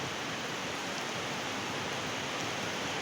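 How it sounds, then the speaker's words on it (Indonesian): Heavy rain pours steadily in a dense, even hiss that fills the scene without pause, no voices heard over the constant downpour. "Hujannya makin deras."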